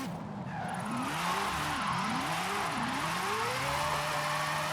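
Car drifting through a long drift zone in Forza Horizon 5, with a steady loud engine drone and wavering tire squeal sweeping up and down across several seconds, no talk.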